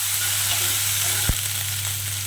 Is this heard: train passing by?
no